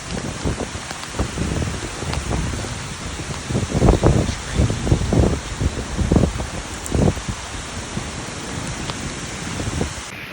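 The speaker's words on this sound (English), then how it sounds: "It's raining really hard this morning." Hard rain drums steadily nearby, a dense patter with louder irregular splats and thuds scattered through it.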